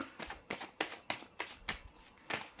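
A deck of tarot cards is shuffled by hand in a quick, regular series of soft riffling flicks, about three per second, close and quiet.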